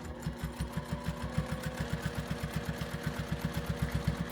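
A home sewing machine back stitching along quilt seams, running steadily with a fast, even mechanical rhythm of needle strokes over a low motor hum, close and alone.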